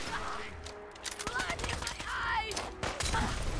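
Gunfire in the video game Fallout 4: rapid volleys of shots crack in bursts with brief gaps between them, while voices talk underneath the action.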